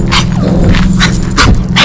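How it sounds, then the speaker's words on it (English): A dog barks and yips loudly up close, a few sharp bursts over a noisy room, with no clear talking during it. "Do the bark, bro."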